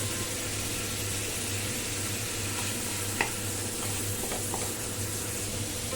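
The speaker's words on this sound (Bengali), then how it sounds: "একটা টমেটো কুচিয়ে রেখেছিলাম সেটা এখন এর মধ্যে দিয়ে দিচ্ছি" Chopped tomato going into a pan of prawns and yam, frying with a steady, even sizzle and a few faint stirring clinks, close and continuous with no talk.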